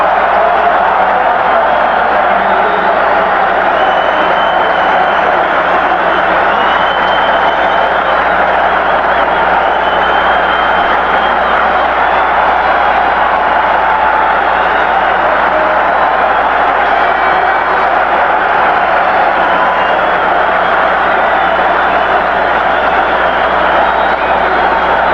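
A 1985 USFL football stadium crowd in a Bulls vs. Generals game keeps up a constant distant roar of cheering and applause, blended with broadcast chatter.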